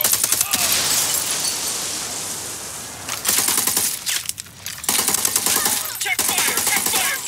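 Rapid automatic gunfire in Ghost Recon Wildlands, a shootout near a casino with cartel enemies, crackling in dense bursts that fill the whole stretch, pausing briefly twice before resuming.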